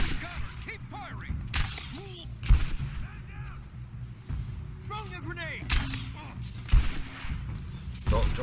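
Gunfire in the video game Rise of the Tomb Raider: scattered sharp shots and short volleys over steady game ambience, at moderate loudness with a few louder cracks.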